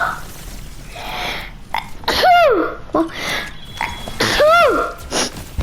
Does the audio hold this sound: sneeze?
yes